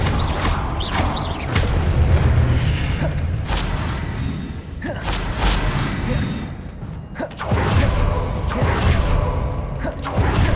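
Confringo fire spell blasts from the Hogwarts Legacy video game, loud booming impacts with whooshes and thuds repeating across the clip over dense game effects.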